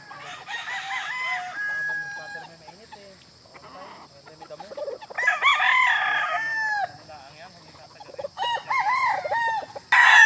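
Several chickens cluck nearby on a farm while roosters crow loudly in a few drawn-out calls, with faint voices murmuring in the background.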